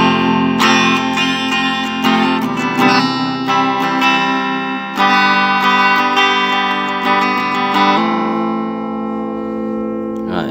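Clean, undistorted guitar through a Blackstar amp, a steady run of ringing picked notes and chords, loud and close, fading gently at the end.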